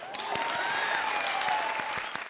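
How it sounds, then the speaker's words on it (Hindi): A studio audience on a comedy TV show applauds steadily and loudly throughout, dense clapping with a faint whistle-like tone running over it. "तालियां!"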